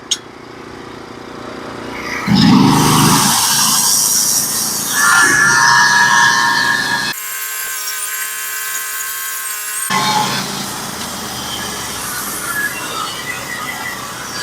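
Band sawmill cuts a flitch from a spruce log, with a loud, sustained whining and grinding roar close by that shifts in tone as the cut progresses, including a stretch of high-pitched ringing.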